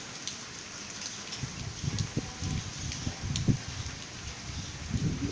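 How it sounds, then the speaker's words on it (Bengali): Light drizzle falls steadily during Cyclone Remal in Narayanganj, a soft continuous patter of fine raindrops with little wind, faint and close. "বৃষ্টি, গুড়ি বৃষ্টি হচ্ছে"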